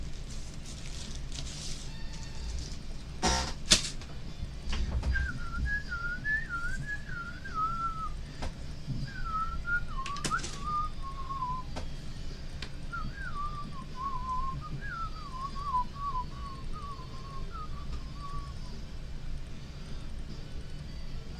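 Someone tries to whistle with a dry mouth, producing a series of thin, wavering, breathy whistled phrases over a steady background hum, with a few sharp knocks early on.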